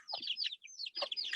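Baby chickens in a coop let out a few faint, high chirping peeps and clucks in two short bursts with a brief pause between them.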